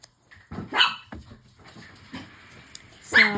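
A dog barks indoors in a few sharp, separate bursts with whimpery yips between, fairly close and fairly loud, with a little background noise.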